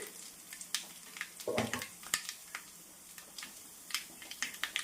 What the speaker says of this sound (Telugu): కొన్ని కచ్చాపచ్చాగా దంచిన చిన్నపాయల రెమ్మలు వేసుకోండి కొంచెం వేగనిద్దాం తాలింపు